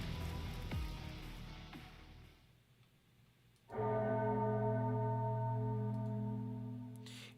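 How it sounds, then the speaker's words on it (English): A bell rings in the Arknights video game, one clear sustained tone that blooms suddenly after a dim rumbling passage and slowly fades. "In this final moment, Anduin hears a bell, clear as day."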